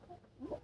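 Free-range local village chickens at a rural poultry farm give a few soft, brief clucks, faint and close-by against quiet surroundings.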